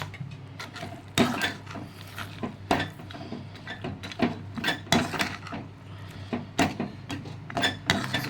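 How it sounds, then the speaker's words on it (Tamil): Seeds and nuts stirred into thick burfi syrup in a pot, a spoon scraping and clattering in busy, uneven strokes with a dense crunchy rattle close up. "இந்த ஸ்டேஜில் நம்ம எடுத்து வச்சுருக்க எல்லா சீட்ஸையும் போட்டுக்கலாங்க. போட்டுட்டு நல்லா கலக்கிக்கலாங்க."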